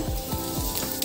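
Whole cumin seeds sizzling in hot oil as the base for a brinjal masala gravy: a dense, close, steady hiss and crackle in a short burst.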